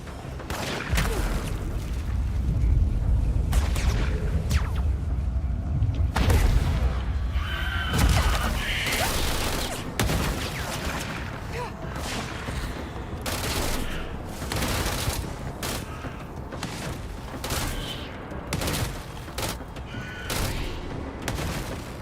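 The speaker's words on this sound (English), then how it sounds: "I hear a sniper." Sniper and other gunfire in the PC action game Control: repeated sharp shots and booms ring out in an irregular sequence over a loud, busy combat soundscape, with brief bursts scattered throughout.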